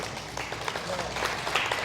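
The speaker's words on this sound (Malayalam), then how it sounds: "കൈയടിച്ച്" Brief clapping from a church gathering audience, a scattered mix of hands heard under low voices and room murmur.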